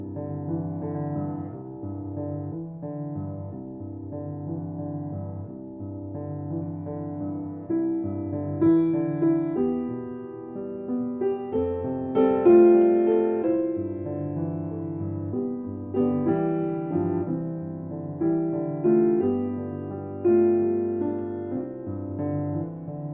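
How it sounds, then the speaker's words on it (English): Solo piano plays O Holy Night in a written-out arrangement with sustained chords and a singing melody, soft at first and then fuller and more ringing, with no voices. "And this is just solo piano straight out."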